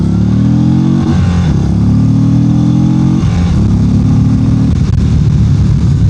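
An Indian Sport Chief motorcycle engine on its factory exhaust revs up and drops back repeatedly, loud and close, with burbling on deceleration and no talking.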